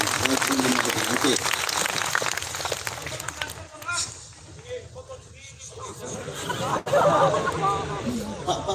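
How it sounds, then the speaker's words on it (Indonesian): A crowd applauds at a large outdoor Sinau Bareng gathering in the Banjarnegara town square, dense clapping that thins out partway through, mixed with a speaking voice and crowd chatter. "Tepuk tangan untuk anak-anak kita calon-calon masa depan."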